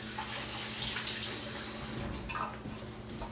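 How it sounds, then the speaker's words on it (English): A kitchen tap runs steadily while hands are rinsed under it, a close, continuous splash and hiss with small shifts as the hands move through the stream. "I'm gonna rinse my hands"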